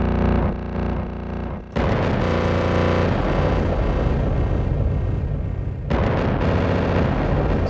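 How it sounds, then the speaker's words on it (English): Harsh, heavily distorted electronic sound from Heavyocity's Damage 2 stutter feature, with a rapid stuttering, chopped rhythm, booming and loud throughout, briefly dropping out before surging back. "I used the Stutter feature with a lot of distortion to make a kind of rip-roaring"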